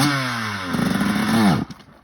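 A motorcycle engine revs and idles steadily during wheelie practice, then its pitch sags as it stalls and cuts out abruptly, leaving a few faint clatters.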